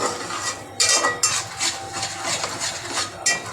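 Cooked white peas go into fried masala in a pan for spicy misal, with repeated metal clinks and scraping stirs of a spoon against the pan, close and fairly loud.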